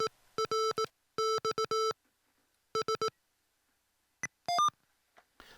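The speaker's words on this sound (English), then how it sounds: "I hold the function key down for 3 beeps" Electronic beeps from a Mr. Rags macro keyer, several rapid clusters of short, clean tones with pauses between, followed by a few higher error beeps near the end.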